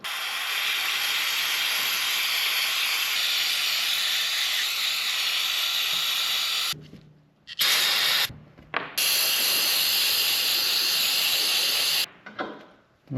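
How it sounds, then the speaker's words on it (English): Aerosol can of brake cleaner spraying onto parts of a 2023 KTM 450 SX-F Factory Edition motorcycle, a loud continuous hiss for several seconds, then short bursts broken by silent gaps. "take your brake cleaner. You're going to want to just clean all of these parts nicely."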